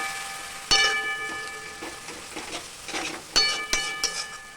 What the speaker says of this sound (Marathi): आता आपण याला हलवून घेऊया